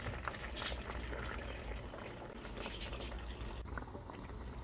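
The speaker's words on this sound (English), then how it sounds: "put it the beef, fry it, and fry on low heat guys" Beef chops fry in a pan on low heat, giving a steady, soft sizzle with faint crackles and pops throughout. The sound is quiet and close, with no talking.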